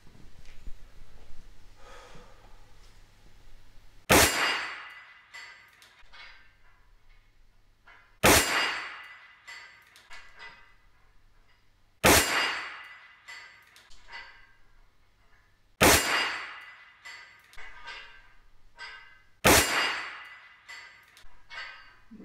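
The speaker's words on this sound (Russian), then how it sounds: "постреляем по гонгу. По гонгам всегда интересно стрелять, не только из карабина, но и из пистолета." Revolver shots ring out against steel gong targets: five sharp metallic clangs spaced several seconds apart, each with a bright ringing decay, heard alone at a moderate distance.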